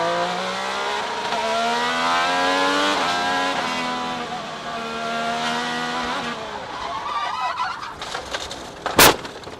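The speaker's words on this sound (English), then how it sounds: "it sounded like the engine had a hiccup, and then it just snapped so violently" Agustín Canapino's IndyCar race car engine drones steadily at high revs, then wavers and stumbles into a stuttering hiccup, followed by a sharp, loud crack as the car snaps into a spin.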